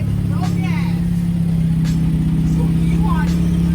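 A car engine runs steadily just after a lukewarm startup, a loud constant idle hum with a strong low drone, while people talk over it.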